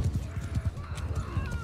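Galloping horse hooves in the medieval combat game Mount & Blade II Bannerlord, a quick rhythmic clip-clop of low thuds running steadily throughout amid battle noise.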